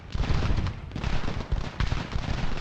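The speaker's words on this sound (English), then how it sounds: "The artillery still can do some long-range fire at this chap." Artillery fire from the Revolutionary War strategy game Ultimate General: Revolution, a dense, continuous rumble of cannon and musket booms layered over one another, steady and moderately loud throughout.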